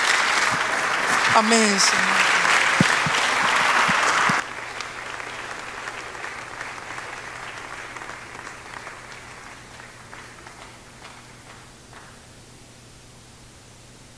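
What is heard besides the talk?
congregation applause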